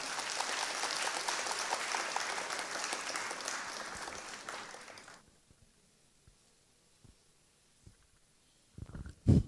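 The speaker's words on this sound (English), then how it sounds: "Round of applause, please." An audience applauds for the Minister of Aviation at a state security trust fund event, a loud wash of clapping that fades out after about five seconds, followed by near silence and a few brief bumps and handling noises.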